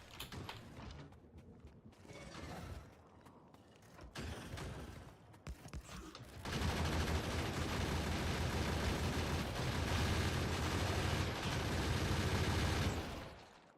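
Gun turrets firing in Factorio: Space Age, starting as scattered mechanical clicks and rattles, then swelling into a loud, steady, dense stream of rapid fire for the last several seconds.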